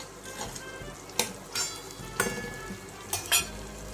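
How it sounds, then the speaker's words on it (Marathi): Turmeric goes into a hot oil tempering for chole, giving a soft continuous sizzle with a few louder bursts and scraping stirs, close up and otherwise quiet, with no talking. "यानंतर आपण फोडणीमध्ये थोडीशी हळद घालू"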